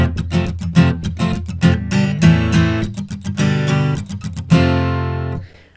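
A guitar plays the ending chord progression of a song in a minor key, with strummed chords struck in a lively rhythm, loud and close, the final chord ringing out briefly before cutting off.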